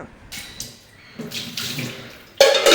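Tap water runs into a household sink in short bursts, splashing and hissing up close, stopping and starting and then gushing strongly at the end.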